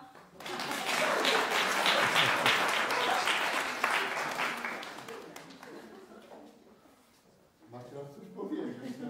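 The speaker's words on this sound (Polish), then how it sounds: "Proszę o brawa." Applause at the opening of a watercolour painting exhibition in a castle, a dense burst of many hands clapping that swells then tapers off over several seconds, followed by a voice speaking.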